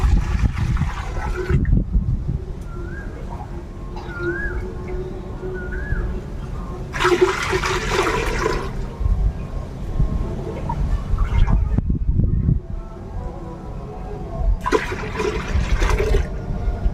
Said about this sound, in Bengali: এখানে আমি তিন লিটার জল ঢেলে দিলাম